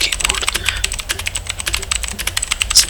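A Vortex Vibe mechanical keyboard with SA profile keycaps is typed on rapidly, giving dense, close, clacky keystrokes in an uneven steady stream with a few louder hits.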